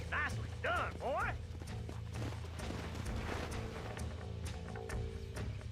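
Horse hooves clip-clopping in the western game Red Dead Redemption, a quiet steady patter running under a voice, with a couple of brief whinnying calls near the start.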